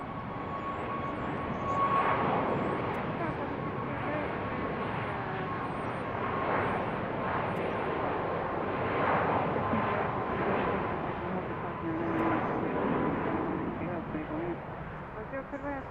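An Atlas Air jet airliner departs BWI airport, its engines producing a steady, broad, loud roar that swells and fades slightly over sixteen seconds with a faint tonal whine running through it.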